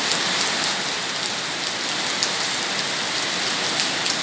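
Steady, even rain falls on surfaces outdoors, a dense unbroken hiss with scattered drop patter and no voices or thunder.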